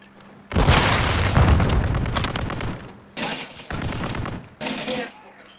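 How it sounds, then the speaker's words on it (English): Loud, close gunfire roars in a Call of Duty match, including a sniper rifle: a long sustained burst followed by two shorter, separate bursts with brief pauses between them. "He sniped me."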